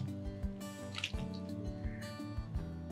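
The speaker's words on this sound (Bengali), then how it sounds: "এবার ভেজে রাখা আলু টুকরোগুলো এই গ্রেভির মধ্যে দিয়ে" Fried potato pieces drop into simmering gravy with soft wet plops and squishy drips. The gurgle is quiet and close, and gentle kitchen clatter sits behind it.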